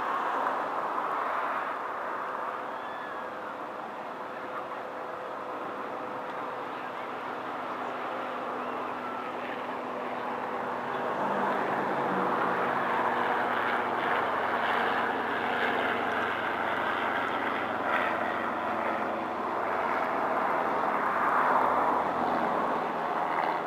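A low-flying helicopter passes over water at sunset, its steady engine and rotor drone holding throughout and swelling slightly louder in the second half, with no talking.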